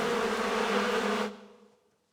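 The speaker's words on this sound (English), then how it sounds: "So it's a swarm. It's a swarm of bees." A swarm of bees buzzing loudly and steadily as a played-back recording, cutting off abruptly after about a second and a quarter and leaving a faint fading hum.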